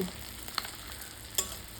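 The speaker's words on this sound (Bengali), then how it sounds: "তো সেই লঙ্কা থেকে ডিম ভাজা করেছি" Eggs with chilli frying in a pan on low flame, a soft, steady sizzle with a couple of faint clicks from a utensil.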